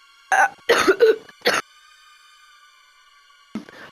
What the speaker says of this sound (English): I'm sorry, I have a little bit cough.